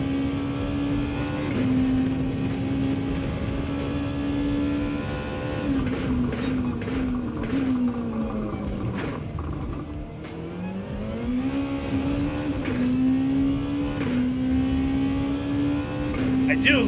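Nissan GTR Group 2 race car in Gran Turismo 7, engine held at a steady, loud drone with repeated revving swells and dips through gear changes, continuous for the whole stretch with no talk over it.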